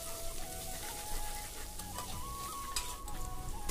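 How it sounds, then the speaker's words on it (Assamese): Chopped onions and chillies fry in hot refined oil in a pan while making Assamese chicken pulao, giving a steady, close sizzle that runs unbroken through the whole stretch with no talk. "এতিয়া মই এইখিনি 2 মিনিটমান ধুনীয়াকৈ ভাজি লৈছোঁ"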